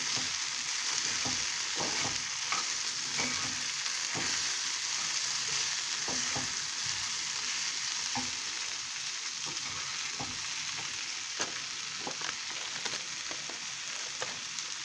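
Rice with black pepper pieces being stirred in a hot pan, a continuous sizzle broken by repeated scraping and clanking strokes of the utensil at an uneven rhythm, close by.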